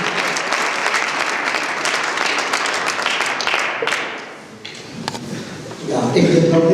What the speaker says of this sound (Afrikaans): Kan ons die man van die Here so lieflik hande klap gee?